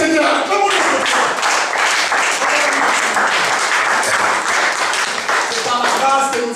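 A church congregation applauds with loud, sustained clapping that continues through the whole stretch, and voices can be heard mixed into it.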